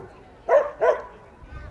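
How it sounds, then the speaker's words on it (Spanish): A search dog gives two quick, close barks during a search exercise at a canine exhibition, with a faint outdoor background. "Entonces se mantendrá ladrando hasta que yo llegue."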